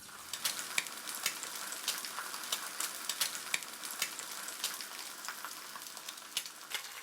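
An egg frying in hot oil in a pan over low heat, giving a steady close sizzle with dense crackling pops and spits throughout, with no talk.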